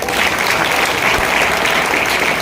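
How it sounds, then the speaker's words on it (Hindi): Loud, dense applause from an audience at a business plan presentation in Kandivali, sustained and even throughout with no talk. "इसके लिए जोरदार ताली हो जाए।"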